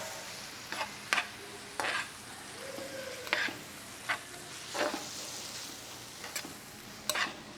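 Onions with ginger garlic paste cooking in a pan for chicken biryani, a low continuous sizzle broken by about a dozen sharp stirring scrapes and taps spaced irregularly, close and with no talk.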